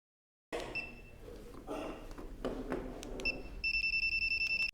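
A Honda car alarm beeps in a fast, steady repeating pattern of high tones, starting after a burst of handling noise and clatter.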